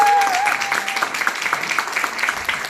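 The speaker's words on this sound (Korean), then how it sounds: "진짜 좀 박수를 좀 많이 쳐주세요" A group in a fitness session applauds, steady close clapping from a small crowd continuing for a few seconds after a voice fades out at the start.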